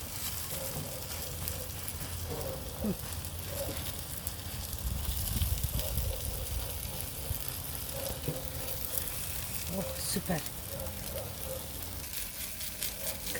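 Crow garlic frying in a pan gives a steady, moderate sizzle with faint crackles and a few soft clinks throughout, and no talking.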